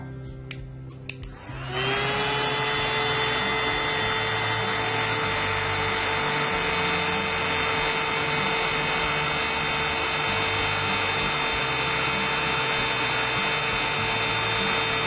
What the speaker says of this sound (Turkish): Şimdi fön makinesini tutacağım